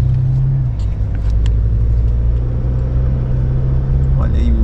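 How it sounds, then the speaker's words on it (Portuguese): Buses roll along a city street in Volta Redonda, Rio de Janeiro, a heavy low engine rumble running throughout and shifting near the end, with a voice speaking over the traffic. "Olha aí os buzu, os busão."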